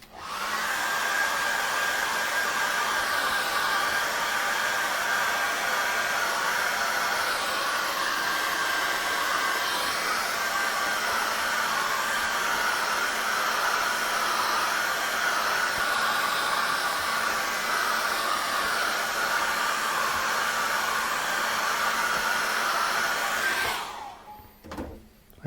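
A hair dryer blows steadily and loudly on freshly applied acrylic paint, a continuous close whoosh and whine that runs unbroken for the whole stretch and then cuts off abruptly near the end.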